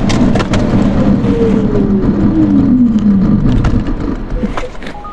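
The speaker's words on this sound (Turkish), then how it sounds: "Şurada bir fren testi yapmak istiyorum." A Peugeot 308 GT 1.2 PureTech brakes hard on a soaked road, a loud tire and road roar with a falling engine whine as the car slows, easing near the end.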